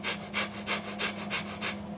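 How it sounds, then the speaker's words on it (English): Breath of fire breathwork: rapid, rhythmic forceful breaths, about seven sharp airy pulses in quick even succession, close and fairly quiet. "Like breath of fire,"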